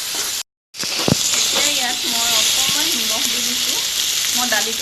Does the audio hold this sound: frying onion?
yes